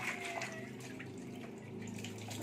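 Water runs from a tap during a 4-month-old baby's bath, a soft continuous splashing flow heard fairly quietly with no talk over it.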